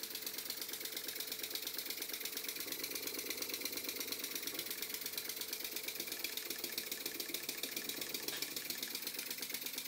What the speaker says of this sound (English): And now the engine is running much better.